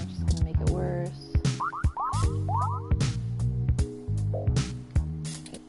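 Gross sync ooze in the game 2064 bubbling up, heard as wet, squelchy gurgles and dripping pops in an irregular rhythm, close and fairly loud.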